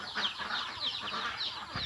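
Native and Rhode Island Red chickens cluck and chatter together in a busy coop, a steady mix of overlapping calls with no talking.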